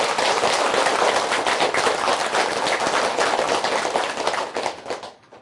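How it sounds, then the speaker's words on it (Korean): A temple audience claps together for Maitreya Buddha, giving a dense, vigorous burst of hand claps close by that tapers off over the last second. "우리 미륵부처님께 박수 한번 쳐야 됩니다."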